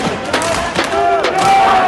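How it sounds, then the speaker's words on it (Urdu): Opposition members in a parliamentary assembly chant protest slogans against the budget during the budget speech: a loud, dense crowd of shouting voices, rising and falling in rhythmic bursts. "اپوزیشن اراکین نے بجٹ تقریر کے دوران احتجاج کرتے ہوئے بجٹ نامنظور کے نعرے لگائے."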